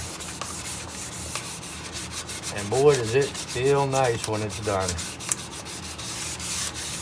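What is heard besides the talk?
hand sanding wood end grain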